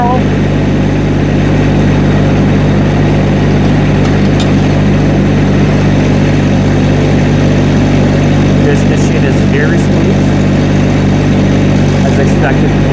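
A Rippa RS06 skid steer engine runs at a steady, loud drone while the bucket curls, with faint hydraulic whines over it and someone talking throughout.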